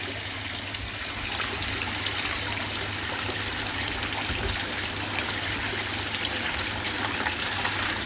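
Water running steadily through a gold cube prospecting sluice outdoors, a constant soft trickling and gushing flow, fairly faint and even throughout, with no talk.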